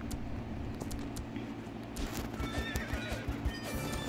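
In the video game Horse Life, horses neigh and whinny while hooves clip-clop in quick, uneven beats, with the activity growing busier and louder over a few seconds and a low background hum throughout.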